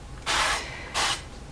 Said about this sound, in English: Normally I would pull it away from the flame to spray it